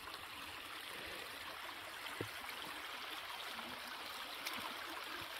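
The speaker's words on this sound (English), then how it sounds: "This crossing of this little brook might prove difficult." A small brook crossing the South West Coast Path between Port Isaac and Jacket Point flows with a steady, soft babbling rush, faint and continuous, with a couple of tiny clicks and no voices.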